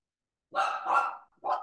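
A pet dog barks up close, two longer rough barks run together followed by a short third one, loud against an otherwise silent background.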